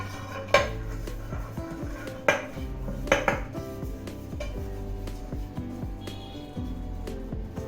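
Oiled metal dhokla plate being handled in a steamer pot on a gas stove, giving sharp metallic clanks at about three moments among softer clinks and scrapes, close and clear with no talking.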